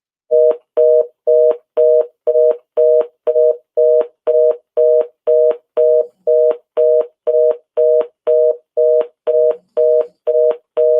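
A phone line beeps after a dropped call, giving a loud, steady run of short identical tones at about two per second, with nothing else heard.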